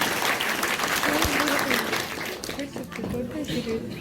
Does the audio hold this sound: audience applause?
yes